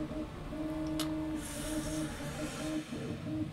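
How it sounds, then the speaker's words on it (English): A printer running in the Mass Effect 3 video game, a steady mechanical drone with sustained tonal whine and a brief high click near the start, continuous throughout. "Is it just me, or is that printer getting louder?"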